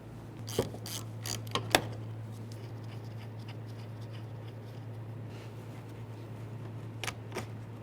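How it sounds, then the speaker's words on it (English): A 13mm wrench turns the battery cable mounting nut on a 2012–2018 Nissan Altima, making a few close metallic ratcheting clicks early on and again near the end over a low steady hum. "Use your 13mm to remove this mounting nut."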